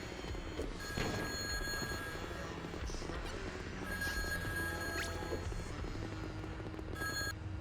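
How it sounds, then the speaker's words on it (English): A telephone rings from the far end of a block, faint and distant beneath a dense, steady wash of ambient background sound, repeating without any talk. "Phone ringing?"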